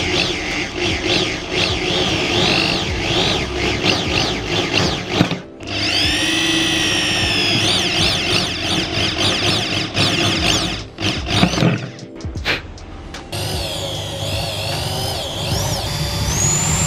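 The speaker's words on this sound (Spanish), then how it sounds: "tendremos que proveernos de una broca de 6 mm para metal" A power drill fitted with a 6 mm metal bit bores into a motorcycle top case, giving a loud high whining squeal that runs in bursts with short pauses and pitch shifts.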